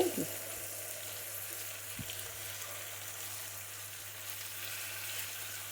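Chicken mince with snake gourd added fries in a pan, a continuous close sizzle with a low hum underneath and a single soft knock partway through.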